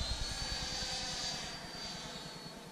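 A Freewing F-22 Raptor RC model jet flies overhead with a steady electric ducted-fan whine and rushing air, loud at first and slowly fading as it moves away.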